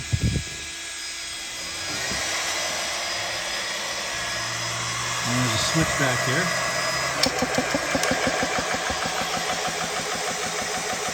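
A steady electric air pump refilling an FX Impact airgun drones with a vacuum-like mechanical hum, and a speaking voice comes in briefly near the start. The hum continues throughout, growing slightly louder partway.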